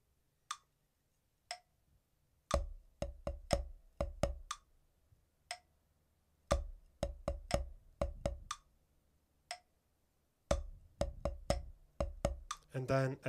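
A snare drum plays a sixteenth-note bar of a solo exercise without accents. Sparse single taps lead into runs of even, crisp strokes, heard close and alone with short gaps between phrases.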